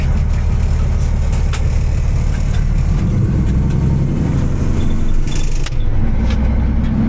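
A Paystar 5600 truck engine runs steadily in a wet yard, a loud, continuous low rumble with no break across the whole stretch and no voices over it.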